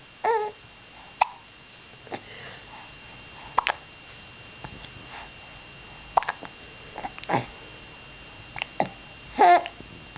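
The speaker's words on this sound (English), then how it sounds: "Do you have hiccups" A young child hiccups repeatedly at irregular intervals, sharp short bursts close to the mic, with soft babbling sounds in between in a quiet room.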